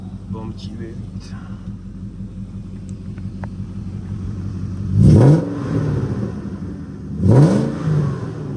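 A BMW 540i E39 V8 with its catalytic converters removed idles with a deep, steady burble up close, then is revved sharply twice, each blip rising and falling back to idle.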